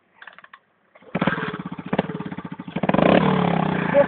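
A small motor sputters briefly, then catches and runs with a loud, rapid, buzzing putter that revs up slightly and holds steady close by.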